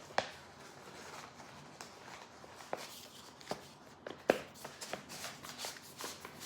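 Paper pattern pieces rustle and crinkle as they are pushed back into a tight packet, a close, quiet shuffling with a few sharper crackles scattered through.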